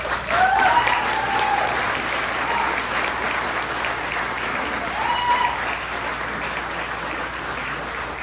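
An audience claps loudly at the 2022 Chelan County sheriff candidates forum, a dense, sustained round of applause from a crowded room that swells at the start and slowly tapers.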